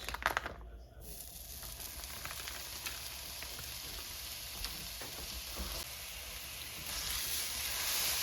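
Pork breakfast sausage sizzling in a cast iron pan with no added oil, a continuous close crackling fry that swells slightly louder toward the end, with faint stirring noises.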